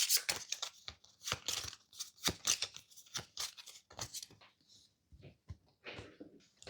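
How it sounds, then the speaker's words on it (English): Playing cards from the Kinfire Delve board game are shuffled into a deck, a series of close, crisp papery riffles and flicks in irregular bursts with short pauses between. "I will discard Hunted and shuffle it into the deck."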